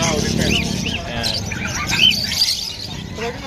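Birds chirp and tweet at the Bocaue pet market, high bright calls scattered through the whole scene with soft cooing below, mixed into market bustle while someone talks over them.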